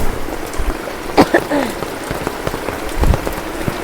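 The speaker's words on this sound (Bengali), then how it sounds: "বৃষ্টি মানে ভালো বৃষ্টি হইতেছে।" Steady rain falls outdoors, pattering on surfaces with scattered heavier drips and drops close by, while a person's voice briefly sounds over the downpour.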